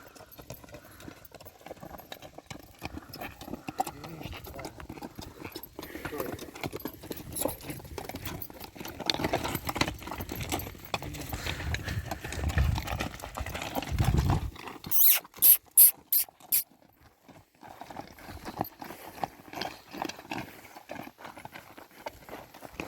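Hooves of mares clatter in a steady rapid clip-clop as they run one after another, moderately close, followed by a few louder, sharper beats before it trails off.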